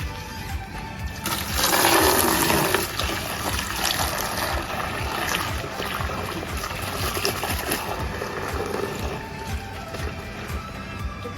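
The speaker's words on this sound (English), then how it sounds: "And then you put the water into the bucket." Water gushes into a soapy bucket for washing a motorcycle, a loud pouring rush that swells early and then settles into a steadier splashing flow outdoors.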